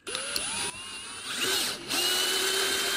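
Handheld drill spinning a 1/4-20 combination drill, tap and countersink bit, its motor whine rising and falling in a few close bursts as the bit cuts and pauses.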